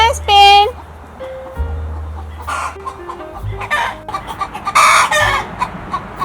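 Backyard chickens cluck loudly and agitatedly after being frightened by a dog. A rooster crows near the start, followed by a burst of overlapping squawks and clucks, close by.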